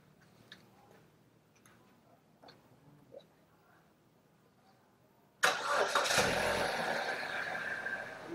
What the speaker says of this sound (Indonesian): Oke, kita nyalain mesinnya.